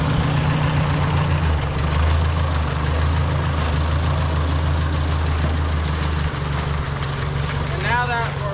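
A Ford 9N tractor engine idles with a steady low rumble, then shifts as the clutch releases and the tractor begins backing up, loud and close throughout.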